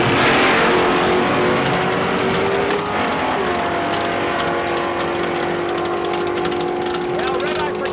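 A dragster idles and drones in the staging lanes at Saskatchewan International Raceway, a loud, continuous engine rumble with shifting pitch, heard under a public-address announcer talking.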